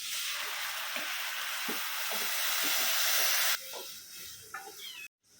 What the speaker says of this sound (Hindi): अभी इसमें चावल डाल के चावल को भूनेंगे।